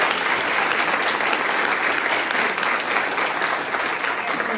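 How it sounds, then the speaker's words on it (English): Audience applause at a school board candidate forum, steady dense clapping from a room full of people that carries on without a break for several seconds. "give Ricky a round of applause"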